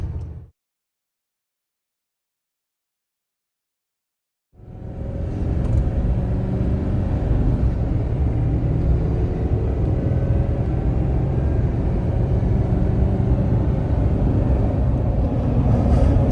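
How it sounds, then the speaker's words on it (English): Toyota truck on its stock exhaust, starting abruptly after a silent gap into a steady, loud, low rumbling drone that holds evenly and close for about twelve seconds. "So this is the stock exhaust."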